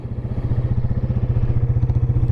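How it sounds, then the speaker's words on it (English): A 1996 Yamaha Wolverine 350 4x4 ATV engine idles steadily up close, its low, even rapid pulsing continuing without a break. "as you can hear, it's idling fantastic, running fantastic, and it's nice and smooth"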